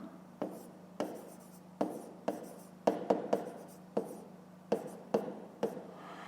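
A pen writing by hand on paper during a fifth-grade maths exercise: close, crisp strokes and taps land in an irregular rhythm of about a dozen distinct scratches over a low steady hum.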